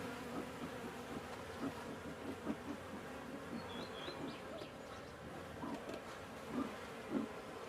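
Honeybees buzz around an open hive while a beekeeper puffs smoke over them, a soft steady hum with occasional closer passes and a few faint bird chirps behind, no clear talk.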